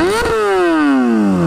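Motorcycle fitted with a short exhaust, engine blipped then settling down, a loud, close, buzzy tone that rises briefly and then falls steadily in pitch, with no talk.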